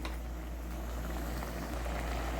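Beef pieces simmering in water with garlic and ground pepper-cumin for a Tamil beef chukka, a steady bubbling boil heard close up and alone throughout.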